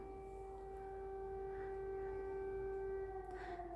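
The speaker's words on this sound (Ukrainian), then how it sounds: "Знову повітряна тривога." Air raid siren wailing in Ukraine, a steady sustained tone with harmonics holding level and slightly falling in pitch near the end, heard at a distance and fairly faint under light background noise, with no talking.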